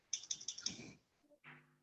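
A computer keyboard is typed on for a short burst of four or five sharp, evenly spaced keystrokes, close and distinct, followed by brief soft mechanical tones.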